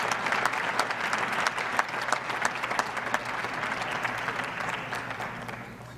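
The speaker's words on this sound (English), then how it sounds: "a round of applause for our 25-year recipients" Retirement and recognition ceremony audience for a school district's employees breaks into steady, dense applause for 25-year award recipients, a continuous crowd of clapping hands holding level for six seconds before easing slightly at the end.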